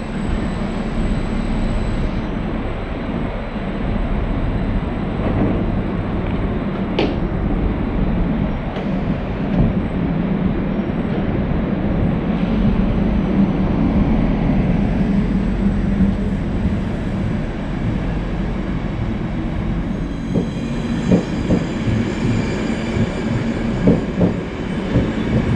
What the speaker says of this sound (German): Hier sehen wir dann noch die Ausfahrt des Zuges in Augsburg.